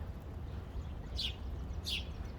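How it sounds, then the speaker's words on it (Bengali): Two short, bright chirps from a sparrow stand out against a quiet outdoor hum, spaced less than a second apart. "এখানে বাংলাদেশের চড়ুই পাখি রয়েছে অনেক"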